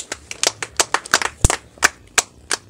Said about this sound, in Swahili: Makofi mazuri kwa Yesu.